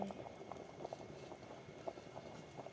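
Rice boils in a pot on a wood-fired stove, a quiet, continuous bubbling with scattered soft pops and blips at an irregular rhythm.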